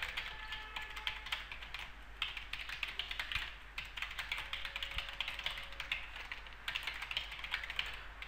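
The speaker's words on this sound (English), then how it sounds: "I can type whatever." Steady typing on a computer keyboard, entered into Notepad. Quick, irregular clicky keystrokes come in bursts, close but fairly quiet, with no voices.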